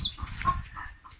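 Layer hens on a poultry farm cluck and squawk in a dense, continuous flock chorus at close range, with a few sharper calls standing out above the steady low murmur of the birds.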